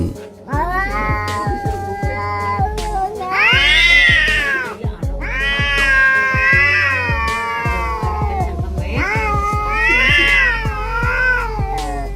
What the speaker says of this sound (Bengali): দুইটি বিড়াল একে অপরকে কেমন ভাবে হুঙ্কার দিচ্ছে তা দেখুন।